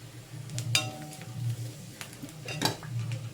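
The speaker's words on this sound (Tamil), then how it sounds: "இது லைட்டாக அந்த பச்சை வாசனை போகிற அளவுக்கு ஒரு ரெண்டு நிமிஷம் நல்லா வதக்கி விட்டுக்கலாம்" Cassava pieces sauté in a pan, with a soft sizzle under repeated metal spoon clinks and scrapes against the pan, close and moderately loud.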